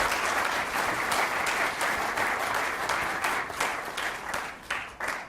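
An audience at the Hindi Chetna award ceremony in Canada breaks into loud, sustained applause, many hands clapping together for several seconds before the sound begins to waver and taper off.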